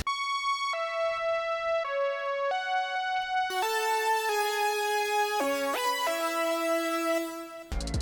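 A synth lead panned left plays a melodic line of held notes that turns brighter and buzzier halfway through, with a quick pitch swoop near the end. No voices.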